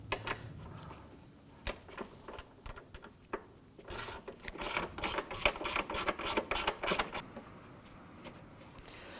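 A 13mm wrench loosens a hood hinge bolt on a 2015-2020 Ford F-150, giving scattered metallic clicks, then a dense burst of rapid ratcheting that runs for several seconds at close range.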